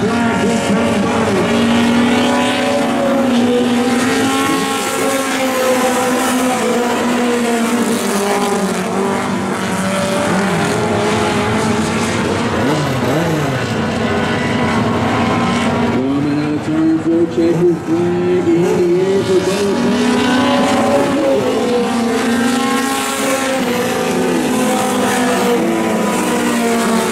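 Race cars in a three-car heat at Sumter Speedway roar loudly and continuously around the oval, engine pitch rising and falling as they pass through turns and accelerate down the straights.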